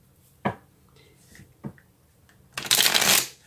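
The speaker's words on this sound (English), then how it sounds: "But we need to take some clarifying cards." Tarot cards being shuffled, with two short riffles early on, then a loud, dense burst of card shuffling near the end. No speech.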